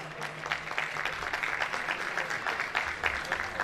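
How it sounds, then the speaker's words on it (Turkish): An audience at a unity gala night claps steadily for a few seconds as a sponsor is invited onto the stage, a dense, even patter of applause filling the hall. "sevgili Serpil Savaş Hanımefendi, alkışlarınızla sahneye davet ediyor olacağım."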